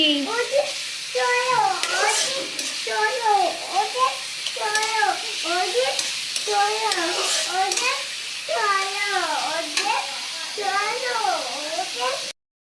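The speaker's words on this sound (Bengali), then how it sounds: "আমার পেঁয়াজটা ভাজা হয়ে গিয়েছে" Onion fries in a pan with a soft, steady sizzle running underneath, while a person talks over it for most of the time.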